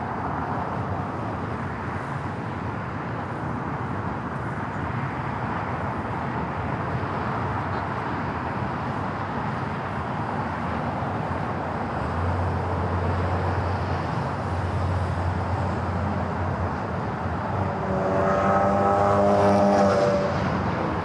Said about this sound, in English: It's Flight 453 heading back to Munich in this A380 Super.